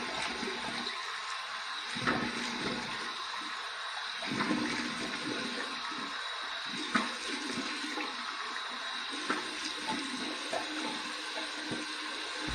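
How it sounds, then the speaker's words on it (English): Warm tap water runs steadily into a sink for a face rinse after a razor shave, with splashes and small knocks as hands scoop and rinse throughout. "Here's my warm water rinse."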